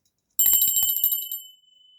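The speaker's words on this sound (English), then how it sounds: "let's ring the bell. So I'm going to ring the bell." A bell rings once with a sharp, loud strike followed by bright sustained tones that fade over roughly a second, with no talking.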